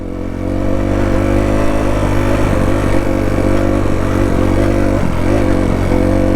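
A motorbike engine drones loudly and continuously up close on a trail ride near Rivington Pike, with a steady throttle and small fluctuations in pitch.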